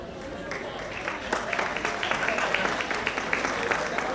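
Applause from a seated audience at the close of a panel discussion between pharmacists and physicians, steady dense clapping that rises a little and holds, with voices faintly underneath.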